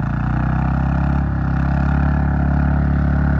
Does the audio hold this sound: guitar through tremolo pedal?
no